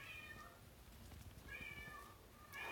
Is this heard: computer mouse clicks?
no